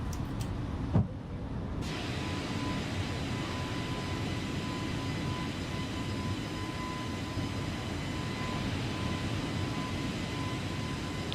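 Cessna jet airliner climbing out after takeoff from Juneau, heard from inside the cabin as a steady, loud broadband engine and airflow roar with a faint constant whine and one brief knock near the start.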